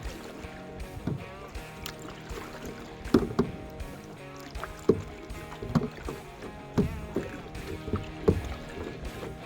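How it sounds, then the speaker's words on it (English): Canoe paddle strokes on a small lake in Algonquin Park, a regular rhythm of close splashes and knocks against the hull roughly every second, heard alone in quiet surroundings. "I have just a short, probably 10 or 15 minute paddle here"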